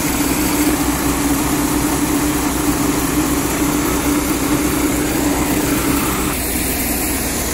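Tractor engine idling during bulk corn loading, a loud, steady, continuous drone with a constant low hum that holds unchanged throughout, close by with no voices.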